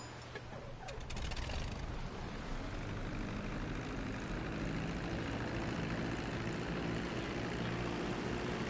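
A propeller airplane in GTA Online roars steadily through its takeoff, a loud, continuous engine drone with a few sharp clicks near the start and no talk over it.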